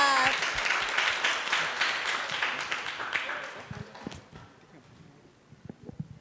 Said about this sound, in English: Let's give a applause for the team Proto-A!